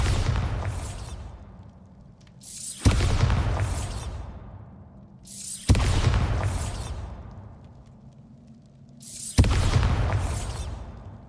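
Four heavy Bombarda spell blasts in Hogwarts Legacy, each a loud sudden boom trailing off into a long hissing decay, spaced roughly three seconds apart with no talk over them.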